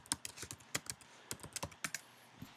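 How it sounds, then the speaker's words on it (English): Quick, uneven keystrokes on a computer keyboard as a search is typed in, a short burst of close, quiet clicks with no talking. "Just type it in the search"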